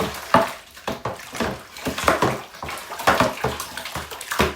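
Hot tap water sloshed and stirred in a plastic wine-kit bucket, with rhythmic splashing and swirling strokes and occasional knocks against the sides, close and steady throughout.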